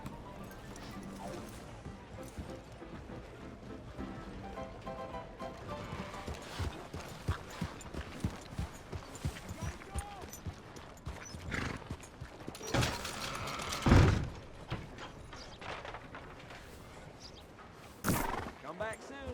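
Rhythmic horse hooves clip-clop in Red Dead Redemption 2, with occasional whinnies, game sound effects and people talking.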